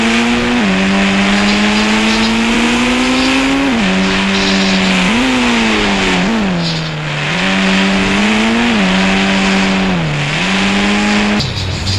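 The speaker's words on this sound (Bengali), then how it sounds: "তোমাকে এই 4 চাকা গাড়ির সাউন্ডটা শুনিয়ে দিই" Red four-wheeler car engine in an India 3D video game, a loud, steady synthetic drone that rises and dips repeatedly as it revs, with no talking.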